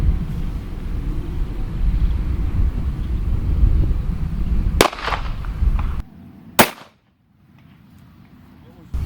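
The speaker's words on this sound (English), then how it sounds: "Next up is the 380. These are hollow points. Hornady 90 grain." A .380 pistol loaded with Hornady 90 grain hollow points fires at body armor, two sharp close reports standing out over a steady rumbling background, the second followed by near quiet.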